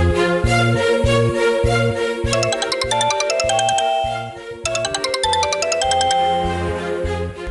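A phone ringtone plays a loud, repeating melodic jingle with a steady pulsing beat, restarting partway through as a call comes in again.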